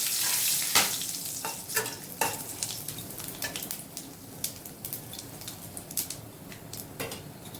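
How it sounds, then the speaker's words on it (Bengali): Whole garam masala spices dropped into hot cooking oil, a burst of loud sizzling at first that settles into a lighter, crackling fry with occasional clicks of stirring, close and alone. "এবার গোটা গরম মশলাগুলো সব তেলের মধ্যে ঢেলে দিচ্ছি, ভালো করে ভেজে নিচ্ছি।"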